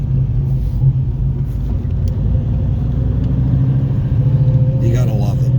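Loud, close exhaust rumble from an old 1971 Ford F100 pickup with a T56 Magnum gearbox and Flowmaster exhaust, driving along with a steady engine drone that swells slightly near the end.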